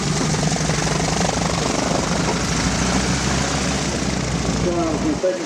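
A tropical-fit Messerschmitt Bf 109G-2 fighter at the 1997 Duxford Autumn Air Show fills the air with a loud, unbroken piston-engine drone, heard under an announcer's commentary.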